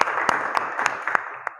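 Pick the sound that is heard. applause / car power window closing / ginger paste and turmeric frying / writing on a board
applause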